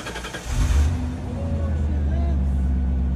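A Chevrolet C8 Corvette engine catches and settles into a steady, loud, low idle rumble after a brief start, with voices nearby.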